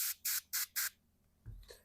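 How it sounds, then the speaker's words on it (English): Spray cleaner is pumped onto a budget guitar in four quick, evenly spaced hissing bursts, close and crisp, followed by faint handling sounds as it is wiped down. "I'm just wiping it down with a little spray wipe."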